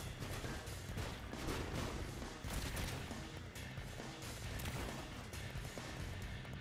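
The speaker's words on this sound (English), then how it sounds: "that's what a box cannon is" Box cannons firing in the vehicle-building game Trailmakers, a dense continuous barrage of loud overlapping booms and impacts with no pauses and no speech.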